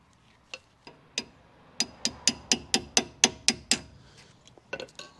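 Brake caliper pins are gently tapped out of a Subaru Impreza WRX STI's front brakes with a run of sharp metallic knocks. A few scattered taps lead into about ten steady, evenly spaced strikes, then lighter knocks.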